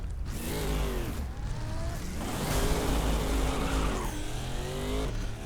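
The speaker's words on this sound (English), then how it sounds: "And I have completely spun out the car." A race car in Race Driver: GRID spins out, its loud engine revving and wailing as tires screech and skid throughout, with no talk over it.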